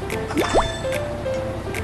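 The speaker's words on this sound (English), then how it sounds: "Tap the wiper to sweep the water away." A windshield wiper on a cartoon school bus sweeps rain water off the glass: a couple of quick squeaky swishes with light dripping and watery sounds, soft and close.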